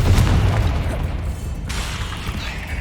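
A Bombarda blasting spell detonates in Hogwarts Legacy, a deep booming blast that rolls on as a sustained low rumble with crackling debris, loud and close, with no talk over it.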